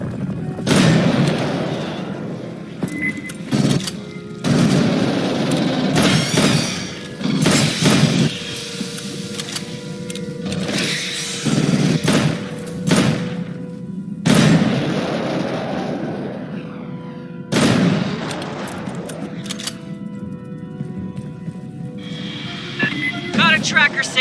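In the Aliens Fireteam Elite video game, mines explode in a minefield as several heavy booms and thuds. They are spread among gunfire, mechanical noise and voices talking.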